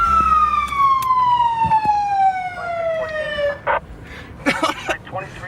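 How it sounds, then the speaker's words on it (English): A police-style emergency siren sounds in a Rainbow Six Siege match, one long descending wail sweeping downward for about three and a half seconds, loud and close, then cutting off amid background noise and brief game sounds. "It's got a siren on."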